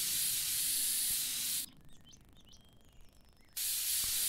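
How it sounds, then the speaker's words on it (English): A spray paint can hisses in the woodwork video game Woodwork Simulator, a loud steady burst that cuts off midway, leaving faint bird chirps in a quiet gap before the spraying resumes. "the sound of the spraying can is not repetitive at all"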